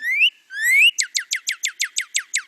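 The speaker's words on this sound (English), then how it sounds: "is what you will hear the bird singing over and over again." A backyard bird repeats its territory song: two rising clear whistles followed by a rapid series of about ten evenly spaced, sharp descending notes, close and fairly loud against a quiet background.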